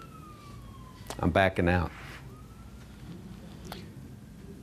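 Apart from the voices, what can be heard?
emergency vehicle sirens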